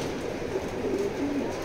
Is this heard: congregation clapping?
no